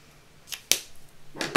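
A grey felt-tip marker colours on a paper baby-bottle card in quick short strokes, giving a few faint scratchy swipes with no talking.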